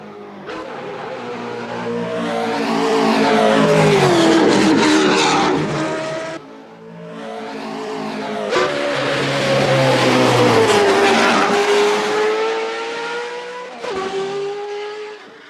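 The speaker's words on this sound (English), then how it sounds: "Doesn't it sound like an Indy car now?" A race car engine in a racing video game screams through repeated high revs, pitch climbing and dropping over two long loud passes with brief gear shifts between.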